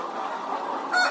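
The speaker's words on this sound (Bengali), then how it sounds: "মুরগি দেখতে পাচ্ছেন এটা অরিজিন টাইগার মুরগির প্যারেন্টস" Tiger breed parent chickens and roosters cluck close by in a poultry farm, with a steady murmur of flock noise and a sharper, louder cluck near the end.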